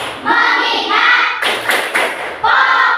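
A class of primary school children claps out a quick rhythmic focus-clapping pattern, sharp bursts of hand claps in short clusters, loud and close, with brief pauses between phrases.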